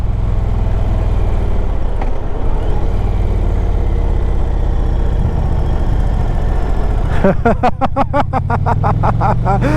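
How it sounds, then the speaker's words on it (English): Engine of a 2023 Indian Pursuit motorcycle, loud and close with wind rumble, blipping through smooth downshifts near the end in a quick train of throttle pulses. "Let's do a downshift. Smooth downshifts."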